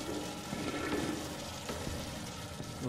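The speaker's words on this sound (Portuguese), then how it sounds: "Será que eu não posso dar descarga, hein?" A toilet flushing in a video game, a steady rushing water swirl that runs continuously at moderate loudness with no speech over it.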